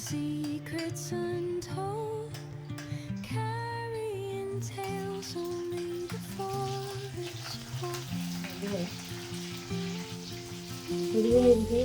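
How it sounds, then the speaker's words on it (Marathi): Crushed garlic hits hot oil for a tempering meant for a chickpea curry, giving a continuous crackling sizzle close at hand, with tonal sounds running underneath and a brief louder swell at the end. "ठेचलेला लसूण घालायचा फोडणीमध्ये."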